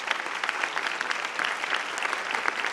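An indoor crowd at a church blessing meeting breaks into sustained, dense clapping to welcome the founder, loud and even throughout.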